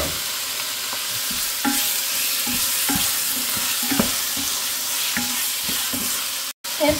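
Chicken breast frying in hot oil with onion, giving a steady sizzle that runs throughout, broken by repeated scraping and stirring knocks from a utensil in the pan; no one speaks.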